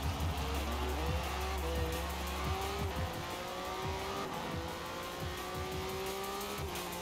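Rip Rod being driven in Forza Horizon 4, its engine revving up and down through gear changes with rising and falling pitch and some tire squeal, loud and continuous.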